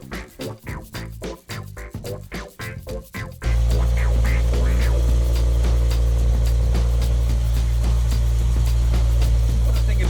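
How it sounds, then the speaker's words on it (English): BMW M5 engine and exhaust running steadily after a stretch of rhythmic, choppy sound; a loud, constant low drone dominates close by for most of the clip. "You guys are gonna hear a lot more of the M5 exhaust."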